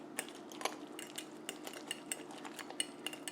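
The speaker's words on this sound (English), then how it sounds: "now with a clean fork that we haven't used before, we are going to whisk these eggs" A clean fork whisks microwaved scrambled eggs in a bowl, giving quiet, rapid metallic clicks and scrapes in an irregular stream, close and faint with no talk.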